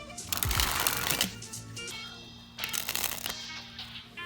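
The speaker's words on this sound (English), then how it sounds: "Very satisfying to shuffle, I love that." A Slicers deck of playing cards by Organic Playing Cards being shuffled in two bursts of riffling and flapping, close by, with a short quiet stretch between them.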